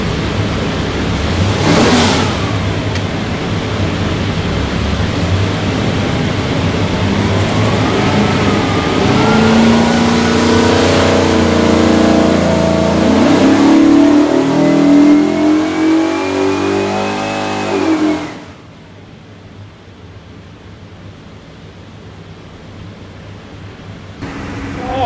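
A 427ci small-block Ford V8 built for a '68 Mustang GT runs on a dyno, its loud roar climbing steadily in pitch for about fifteen seconds before cutting off to a quieter idle-like rumble.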